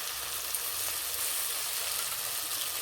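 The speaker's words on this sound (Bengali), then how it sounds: "এবার দেবো বেটে রাখা মশলা।" Ground spice paste sizzles in a pan of lightly fried onions, a dense, steady crackling hiss close by that holds level throughout with no voices.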